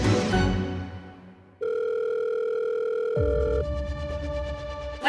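A telephone dial tone plays steadily and loudly after a short burst of other sound, then shifts to a different tone partway through, heard on its own while a call is being placed.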